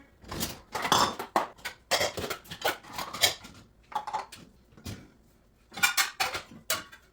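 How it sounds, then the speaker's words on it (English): Dishes and cutlery clatter in sharp, irregular bursts as a dishwasher is unloaded at home, with clinks and knocks arriving close and loud between brief pauses and no talking. "Let's unload the dishwasher."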